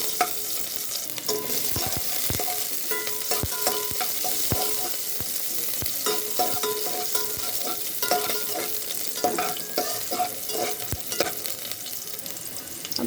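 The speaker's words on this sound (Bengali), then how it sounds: "এখন সামান্য পেঁয়াজ কুচি দিয়ে দেবো। এই তো আমি দিয়ে দিয়েছি 1 টেবিল চামচের মতো পেঁয়াজ। এটা আমি এখন নেড়ে চেড়ে ভেজে দেবো হালকা।" About a tablespoon of chopped onion fries lightly in oil for a winter vegetable dal, a continuous close sizzle punctuated by regular clicks and scrapes of a spoon stirring in the pan, with nobody speaking.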